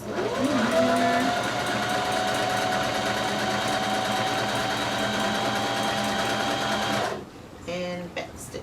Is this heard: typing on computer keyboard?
no